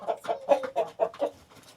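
American breed chickens clucking in a backyard coop, a rapid series of about six close, distinct clucks in a row, then trailing softer calls.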